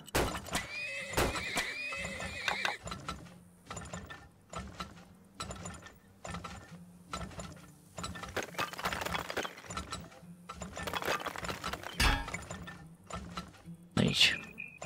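A horse in the video game Turmoil gives a loud whinny near the start, followed by game sound effects: mechanical clicks, ratcheting and scattered thuds, with someone talking intermittently over them.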